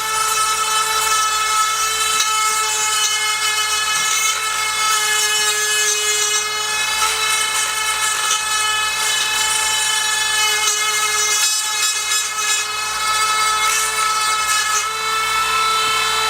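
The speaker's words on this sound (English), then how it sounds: "a little sander to clean it up" A small power sander whines at a high, steady pitch without pause, loud and close.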